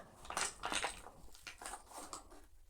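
Nescafé Coffee Mate creamer powder spooned into a cup, soft, quiet gritty scrapes and a few light clinks of the spoon in quick succession.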